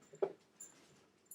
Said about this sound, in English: Apparently you got to meet one of the dogs.